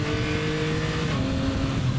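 A Yamaha MT-09 Y-AMT automatic motorcycle engine revs hard and accelerates, a loud steady roar that stays close and continuous throughout.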